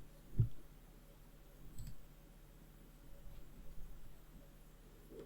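A computer mouse clicking while a Discord server is being set up, with one sharp, close click early on and a few fainter ticks afterwards against a quiet room hum.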